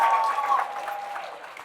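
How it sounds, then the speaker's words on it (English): Audience applause at a Big Brothers Big Sisters of Metro Atlanta graduation celebration, a moderate burst of clapping that fades gradually, with a faint voice or tone present early on. "let's give another round of applause to little brother David Williams"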